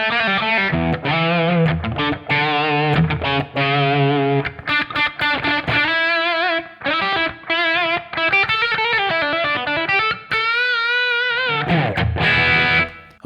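A distorted electric guitar plays classic rock riffs through an amp tone, with loud chords and single-note phrases broken by brief pauses.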